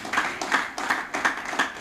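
An audience at a staff retreat and award ceremony claps in a short, steady burst of applause, close and moderately loud, with no voices over it.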